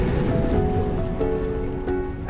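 Surf washes steadily beneath a coastal setting, a continuous broadband roar of breaking ocean waves with faint tonal music-like bands running through, no voices.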